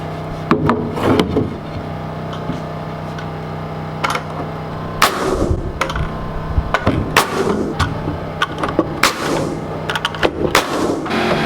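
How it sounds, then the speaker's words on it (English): A pneumatic nail gun drives nails into wooden joist blocking while a barndominium storage loft is built, firing sharp, loud, close cracks in irregular bursts, some in quick pairs, with clattering and creaking wood between them. "I'm staggering each one of these blocks. That way I get the nail gun on each side of it."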